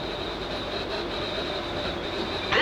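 Steady rumble of a South Western Railway Class 458 electric train running between London Waterloo and Weybridge, a continuous onboard roar with a faint high whine, heard alone and close with a brief rise at the end.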